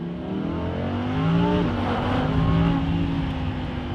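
Lamborghini Huracan fitted with a custom exhaust, driving in Strada mode: a steady, close engine drone with rising and falling tones as revs climb and shift, continuous throughout.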